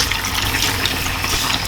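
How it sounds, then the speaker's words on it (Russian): Red wine being poured into a pot of chakhokhbili made with pheasant, a short steady splashing gush of liquid heard close up. "Нужно добавить стаканчик вина."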